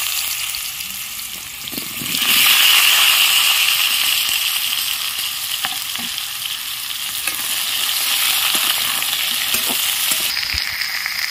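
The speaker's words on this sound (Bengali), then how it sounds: "মাছ ভাজার তেলে কেটে রাখা লাউগুলো দিয়ে দিচ্ছি।" Chopped bottle gourd drops into hot oil left from frying fish, a quiet pan suddenly bursting into loud, steady sizzling that keeps crackling and hissing with small pops throughout.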